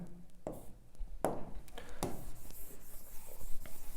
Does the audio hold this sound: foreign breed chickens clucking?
no